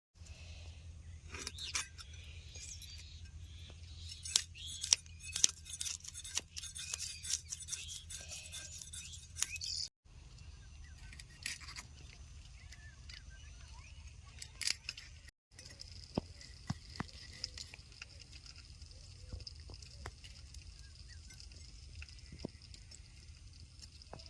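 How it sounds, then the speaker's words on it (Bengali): Khoira fish is scraped clean with a kuita scaler. Quick, rasping strokes come in dense bursts, then thin into sparser scrapes across a long stretch, close and fairly quiet, with no speech. "মাছটি কুইটা দিয়ে পরিষ্কার করে নিয়ে আসি"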